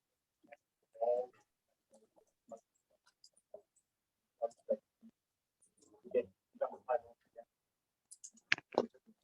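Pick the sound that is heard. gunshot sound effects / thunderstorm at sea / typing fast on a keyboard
typing fast on a keyboard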